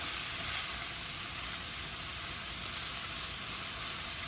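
Chopped onions sizzle and fry steadily in a hot pan for a stuffed bell pepper filling, a constant close crackling hiss with no break and no talk.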